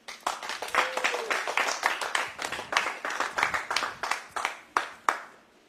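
Hands clapping at a science museum Hanukkah event: a quick run of sharp, separate claps that starts dense, then thins to a few spaced claps and stops, close and fairly loud.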